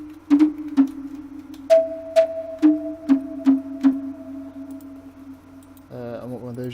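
Spire synthesizer preset played in FL Studio, a series of short plucky synth notes in a sparse rhythmic pattern with a sustained tone, followed by a voice starting to talk.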